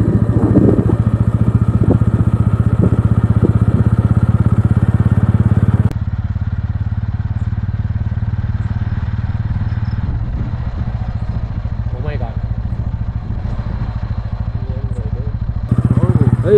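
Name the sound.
motorcycle riding on a road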